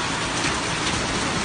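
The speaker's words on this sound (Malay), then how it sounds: "Hujan es loh." Hail pelts down steadily during a storm with strong winds in Tangse, Pidie, Aceh, a dense continuous rattling roar filling the whole moment, close and fairly loud.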